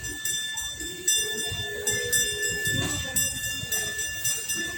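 An amusement park train ride at a dream park in San Isidro, Nueva Ecija rolls along with a steady rumble and a thin, continuous high whine, moderately loud and close, with faint bumps and no talking.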